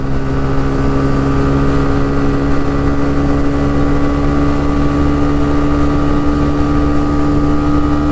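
A 2023 TVS Raider 125 motorcycle cruising in fourth gear, its engine giving a steady, loud droning hum with strong wind rush, continuous and unbroken throughout.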